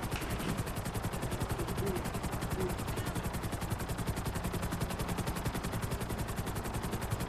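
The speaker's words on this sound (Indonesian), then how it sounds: "Kali ini aku naik helikopter." Helicopter flying in GTA 5 on PS4, its rotor chopping in a rapid, loud, continuous pulse close up for the whole stretch.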